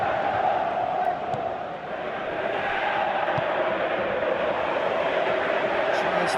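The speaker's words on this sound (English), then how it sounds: "you can hear how the crowd are reacting to this too" A football stadium crowd roars steadily during a Feyenoord match against Man City, a dense far-off wash of voices swelling under continuous commentary.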